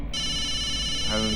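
A phone rings with a steady electronic ringtone, a sustained bright tone that carries on unanswered through the short moment.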